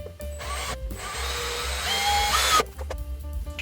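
A drill fitted with a 1/16-inch cobalt steel bit grinds against the steel bar of a DeWalt pole saw, a close, loud whine with brief stops and restarts and a rising screech as it struggles.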